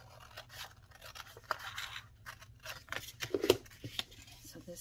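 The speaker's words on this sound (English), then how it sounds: "I think if I cut this part off here" Scissors snipping through a paper bag while it is folded into a pocket, a series of short crisp cuts and rustles, close and fairly quiet with a little low background hum.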